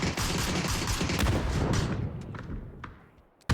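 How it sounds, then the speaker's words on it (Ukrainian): Gunfire from the PUBG battle royale on the Miramar map: a loud, dense fusillade of rapid overlapping shots and thuds that thins out into scattered single reports before a final sharp burst. "по ним три команди стріляє"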